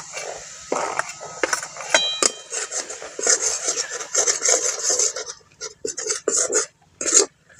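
Gram flour being stirred into hot ghee and oil in a pan over low heat, irregular close scraping and rasping strokes of a spoon with occasional light metallic clinks.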